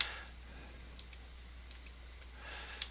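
Computer mouse clicks at a desk, faint and sparse: about eight quick single and double clicks spread over a few seconds against a quiet room hum, no talk.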